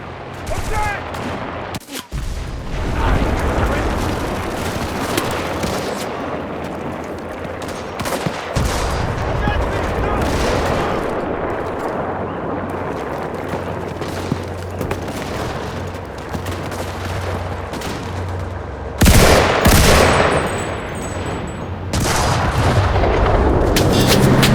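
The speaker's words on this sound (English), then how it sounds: "We need artillery support!" Artillery fire in the WWII video game Enlisted during a Pacific island invasion defense at Gavutu: dense, continuous barrage of booms and gunfire layered into a loud roar, with a sharper blast near the end; brief shouted voices appear.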